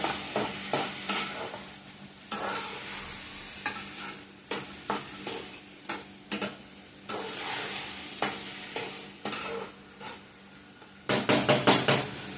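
Food stirred in a pan during home cooking of a Kannada Sunday meal, with repeated sharp scraping strokes of a utensil against the pan over a soft sizzle, ending in a quick burst of rapid scrapes.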